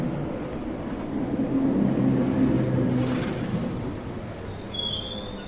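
Train pulling into Amashu station, a sustained low rumble of rolling cars that swells and then eases off, with a faint high squeal near the end.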